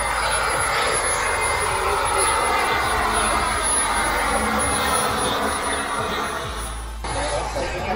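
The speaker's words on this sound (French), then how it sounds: "Alors sur un hélicoptère, on va demander à la turbine de garder un régime constant du rotor" A helicopter turbine holds steady rotor speed during takeoff, a loud sustained whine and roar with rotor thrum close by that eases slightly near the end.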